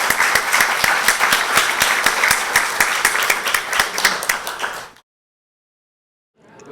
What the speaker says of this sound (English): help me give our panel a round of applause?